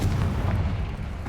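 Confringo fire spell exploding in the Hogwarts Legacy video game, a dense booming blast with deep rumbling low end sustained loudly across the whole moment, no voices over it.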